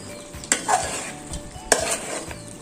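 A spatula stirs chicken seasoned with pepper and salt in a hot pan, steady sizzling under two sharp metallic scrapes, close and fairly loud, with no voices.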